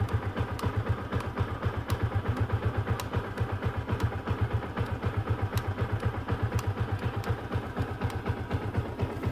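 A Yamaha Exciter or Honda Winner X motorcycle idles up close, its engine thumping in a steady, even rhythm with light mechanical clatter and no talking.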